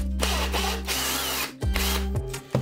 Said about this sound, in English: I also am going to put the piece on top of my cork rack so that I can drill through something without drilling into my table.